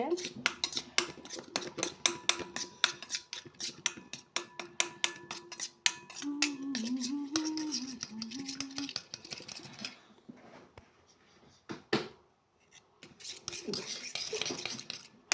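A metal spoon clinks and scrapes against a small bowl while mixing a turmeric face pack, quick taps repeating for several seconds then thinning out, with a brief low voice in the middle.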